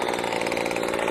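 A leaf blower's small engine drones steadily and loudly at close range with no other sounds.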